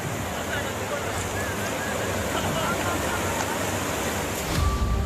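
The swollen Amlawa river rushes in flood, a dense, continuous roar of fast-flowing water with a heavier surge near the end.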